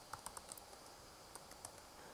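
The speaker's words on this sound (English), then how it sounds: "talking and typing at the same time" Keys on a computer keyboard tapping in a brief, uneven run of light clicks, some louder than others, against a quiet steady background hiss while code is being written.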